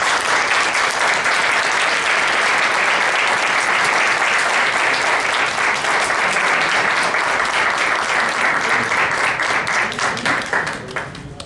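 Sustained, loud applause from an audience honoring a choir from Unidad 31 at a book presentation in Zapala, steady dense clapping throughout that tapers slightly at the end, with no talk.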